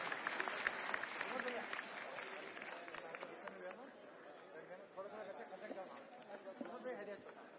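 An audience at a Sindhi community gathering claps in a moderate, uneven patter, fairly distant, with murmuring voices and speech mixed in underneath.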